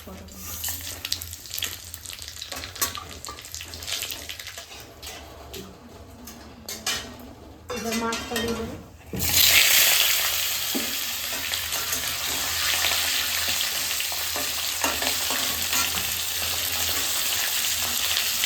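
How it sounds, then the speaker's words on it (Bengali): Black cumin, dried chilli and bay leaf hit hot oil in a pan. Quieter kitchen clatter gives way midway to a loud, sustained, close sizzle that continues to the end. "এই দিকে সোটা তেল দিয়ে দেবো কালো জিরা শুকনো লঙ্কা আর তেজপাতা"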